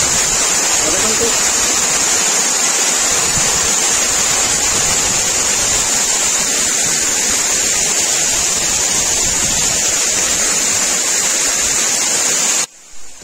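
Asurkhol cave waterfall in Keonjhar, Odisha, pours with a loud, steady, close-up rushing roar that stays unbroken for many seconds before cutting off abruptly.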